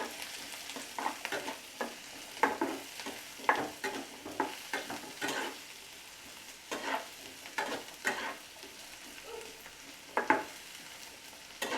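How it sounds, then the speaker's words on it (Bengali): Mixed vegetables and green peas fry in a pan for pasta, a soft sizzle broken by repeated scraping stirs at a steady pace, close up with no talking. "সবজিগুলো আমি 2 মিনিট ভেজে নেব।"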